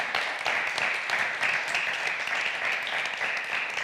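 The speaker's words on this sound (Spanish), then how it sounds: "merece, yo creo que un aplauso, tanto Tonchu como la Asociación del Rollo." Audience at a talk about fungi applauding, a dense, steady burst of many hands clapping that holds at even strength for a few seconds with no voices over it.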